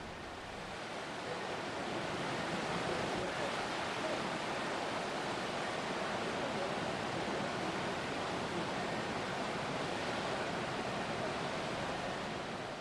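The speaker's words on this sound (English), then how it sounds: "Almost anyone can recognize the sound of the ocean." Ocean surf rolls in as a steady, broad wash of crashing water, constant and full throughout with no pauses or voices, close and enveloping.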